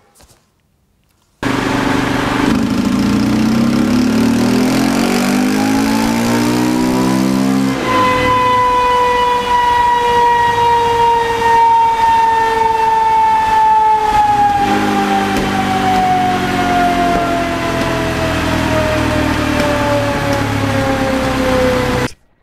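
A KTM SXC motorcycle engine revs hard on a dynamometer roller, climbing in pitch, holding a loud steady high-rpm drone, then sagging slightly before cutting off abruptly, close and continuous throughout.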